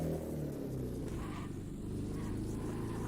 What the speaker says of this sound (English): So this 4-stroke engine is just disgusting to listen to